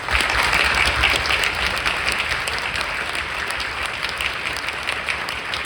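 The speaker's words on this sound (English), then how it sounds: "let's have a round of applause" Steady, sustained applause from an audience at a high school jazz band concert, a dense wash of clapping that holds at an even level throughout with no voices over it.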